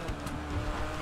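A Mazda RX-7 in a racing video game, its engine droning steadily with a brief tire squeal, heard for about a second with no talk over it.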